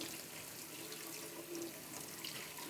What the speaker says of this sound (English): And you give it another rinse. And until the water runs clear.